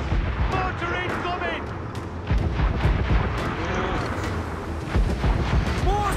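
Mortar fire from a pirate ship in Assassin's Creed Black Flag: repeated deep booms and blasts roll over steady naval battle noise, with several heavy bursts spread through the clip.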